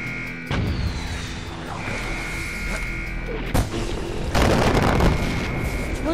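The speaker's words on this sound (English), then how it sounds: "what's back here that's shooting all this, like, artillery?" Distant artillery pounds a Far Cry 4 outpost map in a few deep, booming impacts spread over several seconds, each rolling into a rumbling tail over a steady hum of game background noise.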